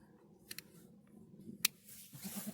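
Trimming shears snipping the tip of a goat's hoof, a few faint, close, sharp clicks spaced out over quiet background noise.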